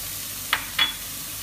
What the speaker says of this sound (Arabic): ومنبلش نحرك الخليط كله سوا مع بعض عشان يتجانس الخليط وتتدبل البصلة بنكهة كل البهارات سوا.